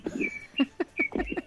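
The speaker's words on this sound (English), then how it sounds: "Can't you hear the bird in the background?" A bird calls in the background with a run of short chirps and tweets in quick, irregular succession, fairly close and clear with no talk over it.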